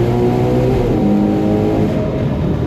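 Ferrari Purosangue engine revving, a loud, steady multi-harmonic roar with rising and dipping pitch, heard close and alone without talk.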